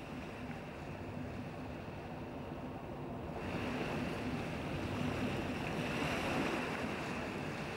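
Ocean waves break along the Basque coast in a continuous roar of surf that swells louder partway through as a new wave rolls in, with wind noise and no voices.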